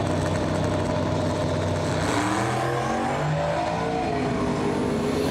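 Drag race cars, a Buick and a Chevy Camaro, launch at the 2024 Yellow Bullet Nationals with a loud, steady engine roar that thickens and climbs in pitch as they pull away, with no talking.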